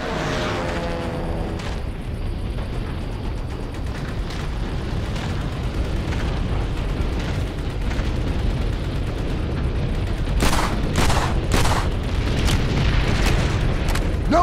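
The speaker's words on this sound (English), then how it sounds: "We got incoming artillery to soften them up" Artillery barrage in the Call of Duty World at War battlefield, a continuous heavy rumble of explosions rolling on, with sharper bursts cracking near the end.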